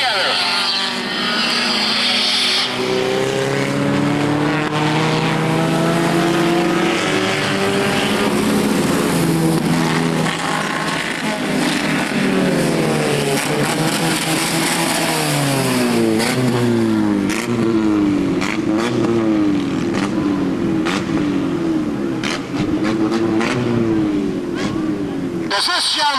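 Race cars on an oval track during the finish of a race, engines roaring and whining past with rising and falling pitch, loud and continuous beneath an announcer's steady commentary.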